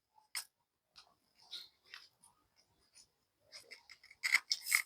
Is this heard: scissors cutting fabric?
yes